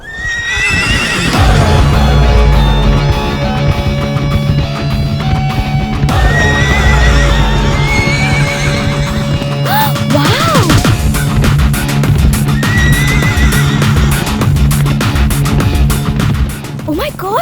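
Horses neighing and galloping hooves during a race, loud and close, with repeated whinnies rising over a dense, continuous rumble, accompanied by background music and an excited voice talking over it.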